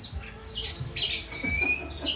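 Male pleci (white-eye) songbirds chirp close by in a series of quick, high, bright tweets and short trills, with no one talking.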